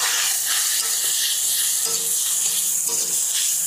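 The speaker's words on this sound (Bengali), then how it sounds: "তারপরে দিলাম আদাটা। কড়াইটা একটু গরম বেশি হয়েছিল তো," Ginger sizzles in an overheated kadai after whole cumin, a steady loud frying hiss with faint stirring scrapes underneath, close up.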